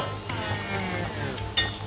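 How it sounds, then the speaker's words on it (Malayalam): Chicken lollipops frying in hot oil make a soft, continuous sizzle with a brief clatter near the end, heard up close without talk. "നമ്മളിപ്പോൾ ലോലിപ്പപ്പ് വറുക്കാൻ വെച്ചു"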